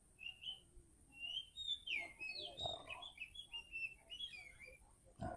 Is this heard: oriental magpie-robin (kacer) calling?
yes